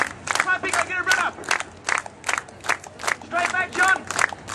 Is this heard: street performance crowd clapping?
yes